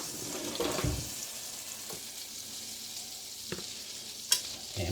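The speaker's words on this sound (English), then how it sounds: "Now, to the butter, we are going to add the meat." Beef frying in butter in a Power XL StirMax multi-cooker, a low continuous sizzle with a few scattered clinks and taps of tongs, close and without talk.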